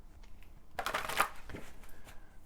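A deck of cards being shuffled, a quick run of crisp riffling flutters and soft slaps, close up with no one speaking.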